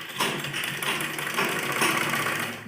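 A sewing machine stitching a baby frock runs with a steady mechanical whir and a fast rattling hum, moderately quiet and close, with no talking.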